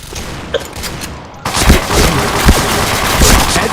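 Rapid gunfire in a first-person shooter game, loud and close, with a quieter shot or two before a dense burst of sustained automatic fire.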